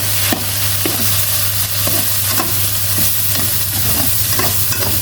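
Oyster mushrooms and pork stir-fried for phat kaphrao in a Mae Sariang kitchen, giving a steady loud sizzle with a low hum beneath and repeated scraping strokes of the spatula at a regular rhythm.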